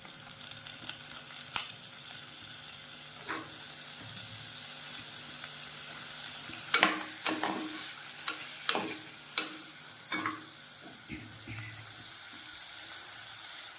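Chicken pieces go into a pan of sautéing onions for chicken sodhi, giving a steady sizzle with scattered stirring scrapes and clinks, a cluster of sharper knocks in the middle, and no talk.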